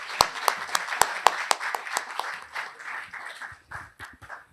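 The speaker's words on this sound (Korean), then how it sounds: "김태형 회장님의 이임사를 큰 박수로 모시고 듣도록 하겠습니다." Scattered clapping from a modest audience at an academic association's annual general meeting, opening with a few loud, distinct nearby hand claps before thinning into lighter, uneven applause that trails off.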